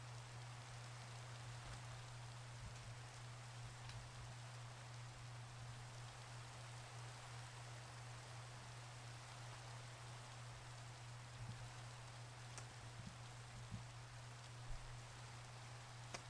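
Steady rain in the video game Minecraft, a soft even patter with occasional louder drops and a constant low hum beneath, faint and continuous.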